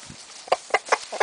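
A rooster gives a quick series of short, close clucks, about four sharp notes in just over a second.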